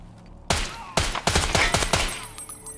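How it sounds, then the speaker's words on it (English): Rapid gunfire from Escape from Tarkov rings out in a sequence of loud, sharp, echoing shots, a few singles then a quick burst, crackling close by with no talking. "Is that you shooting?"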